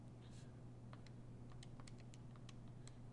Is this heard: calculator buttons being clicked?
yes